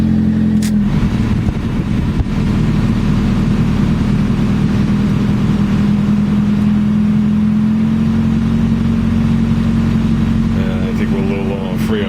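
A Toyota Corolla with about 120,000 miles, parked by the water, catches and settles into a loud, steady idle, its low engine hum continuous and close with a faint whine running over it.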